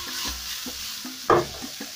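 Cooked pork stir-fries with fragrant garlic in a pan, a soft sizzle punctuated by rhythmic scrapes and taps of a spatula, with one louder clatter midway.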